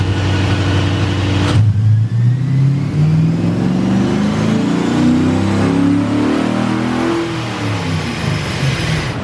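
A brand-new V8 swapped into a Honda S2000 revs hard on a dyno during break-in, rising in pitch in a long sweeping pull after a brief idle, loud and close with no talk.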